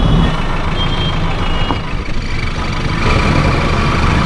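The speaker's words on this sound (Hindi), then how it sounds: "काफ़ी जाम है तो गाड़ी बहुत रुक रुक के चल रही है भैया" Stop-and-go traffic jam on a crowded road, with a truck's reversing beeps and rumbling idling engines filling the scene continuously and loudly, heavy engine noise throughout.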